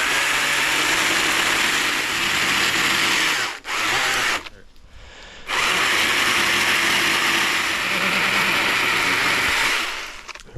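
A tractor engine straining at high load to shift a stuck object on a hiking trail being cleared, a loud steady roar that drops out briefly midway, then resumes and fades at the end.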